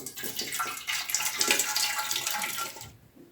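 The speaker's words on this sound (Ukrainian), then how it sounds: "Зливаємо маринад." Marinade is poured off jars of pickled mixed vegetables, a close, steady splashing stream that stops abruptly at the end.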